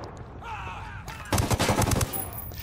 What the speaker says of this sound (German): ich werfe eine Blendgranate